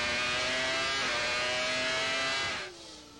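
A 1995 Formula 1 car, at the Japanese Grand Prix, drives through a chicane with a loud, sustained high-pitched engine whine that holds steady, then drops sharply as the driver lifts off near the end.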